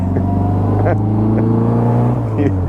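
A 1960 Bugeye Sprite's engine runs rough and uneven close by with flooded carburetors, a few sputtering pops breaking through the steady drone.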